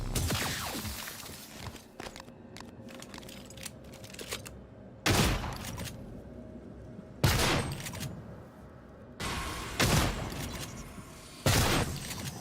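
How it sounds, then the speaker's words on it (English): Stun gun firing in the video game Prey, sharp crackling bursts that repeat every couple of seconds over a steady background hum of gameplay sound. "stun gun's really nice"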